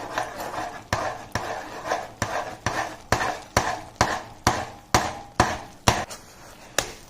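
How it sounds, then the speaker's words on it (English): A spoon stirs an onion fryums mixture in a pan, striking the pan in a regular run of about a dozen sharp knocks, evenly spaced and close, with no voices. "Now mix it thoroughly."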